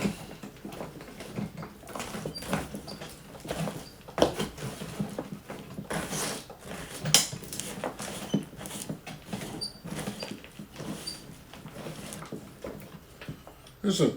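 Isopod substrate being mixed with charcoal pieces by hand, producing soft scraping, rustling and crumbly patter with occasional sharper clicks of charcoal, fairly close and uneven in rhythm.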